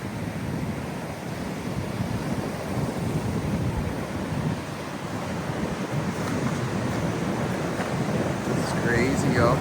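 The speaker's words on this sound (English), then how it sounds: "The ocean's angry today. It's never angry today. Look at them waves." Rough, heavy ocean surf crashes onto the shore in a continuous loud roar, mixed with gusty wind buffeting the microphone throughout.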